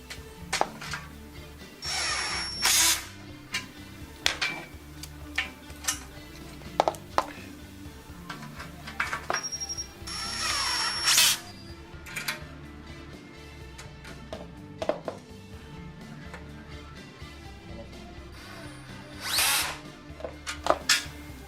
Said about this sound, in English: Tighten the screws with a wrench and a power drill.